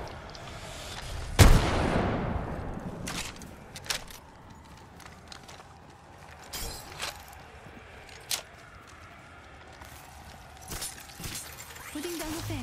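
A frag grenade detonates in a first-person shooter game with one loud, sharp blast, followed by scattered gunshots cracking at irregular intervals over a quiet backdrop.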